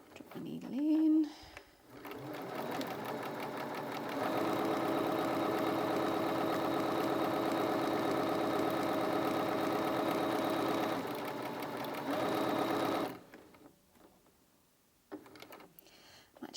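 Bernina 325 sewing machine stitching through thick fabric at about a 3 mm stitch length, a steady close mechanical drone and rapid needle chatter for about nine seconds, with brief talk just before and after.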